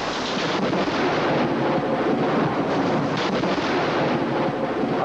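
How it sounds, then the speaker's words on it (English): Thunder during a rain-bearing thunder shower, a broad continuous rumbling roar with wind-like noise, steady and fairly loud, with no voices. "A thunder shower brings rain,"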